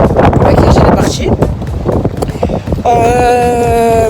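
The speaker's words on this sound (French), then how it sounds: "Mais il y a un petit vent." Light wind blows outdoors across the microphone as broadband rushing under speech, with a steadier tonal hum entering near the end.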